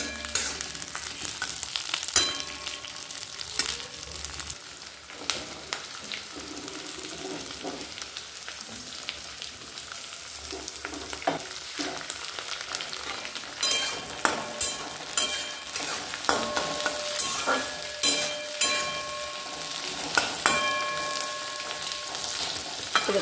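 Onion fries in a pan for Bengali soya chilli, a continuous crackling sizzle with scattered clicks and spatula scrapes, moderately loud and close, with no talking.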